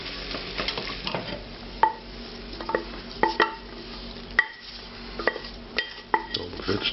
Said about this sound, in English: I'm just going to scrape this to deglaze the bottom of the pan